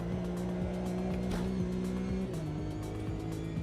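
Race car tyres squealing in the AMS2 racing sim, with a loud droning engine note that shifts pitch through gear changes and a steady high tyre scrub running under it, close and continuous.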